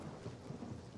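Rain with low thunder rumbling in a video game, a steady wash of rainfall under soft, rolling low rumbles that stay fairly quiet throughout.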